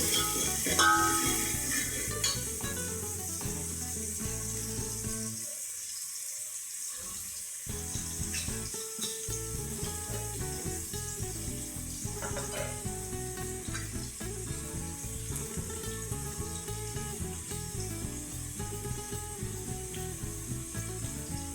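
Chopped onion sizzles steadily in a hot pan for a chicken curry, with stirring and scraping sounds throughout; there is a brief quiet gap midway and no talk.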